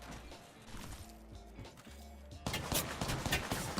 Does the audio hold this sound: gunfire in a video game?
yes